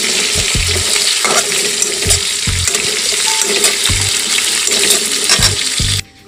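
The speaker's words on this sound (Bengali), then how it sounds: "মুগ ডালগুলো একটু ভেজে নিই।" Mung dal frying in a pan, a loud continuous close sizzle and rustle broken by periodic stirring knocks and scrapes, cutting off abruptly at the end.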